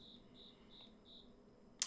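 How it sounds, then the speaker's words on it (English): Cicadas chirping in a quiet setting, a faint regular series of four buzzy pulses at even intervals, followed by a short sharp click at the end. "enjoy cicadas"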